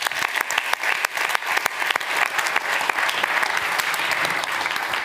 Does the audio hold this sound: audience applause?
yes